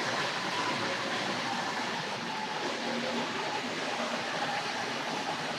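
A Tri-ang R.55 single-ended model diesel locomotive with power bogies pulls R.136 long box cars, giving a faint steady whirring rumble with a continuous hiss, smooth and unbroken with no talking.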